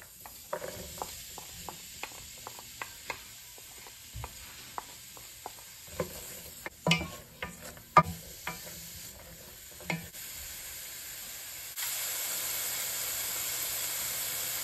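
Onions and garlic with kosher salt sauté in a pan, giving a soft, steady sizzle under repeated clicks and scrapes of stirring, with a louder patch of stirring mid-way and the hiss swelling near the end.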